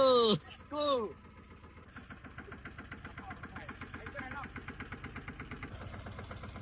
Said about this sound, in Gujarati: તો ચલો સેલ મારો